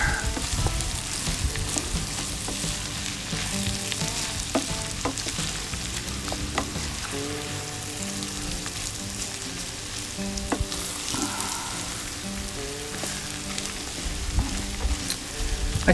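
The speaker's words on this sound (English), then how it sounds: "add some garlic. That's like 3 cloves of garlic here. Let that cook in a little bit." Three cloves of garlic fry in a pan for a chili, giving a continuous close sizzle with scattered pops and crackles throughout and no talking.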